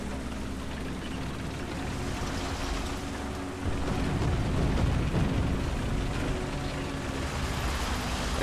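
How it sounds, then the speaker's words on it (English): Artillery shells from a Russian M4A2 Sherman in War Thunder strike a destroyed building, a dull rumbling boom swelling midway over a constant low roar of engine and battlefield noise. "that was just one of our artillery shells hitting a destroyed building"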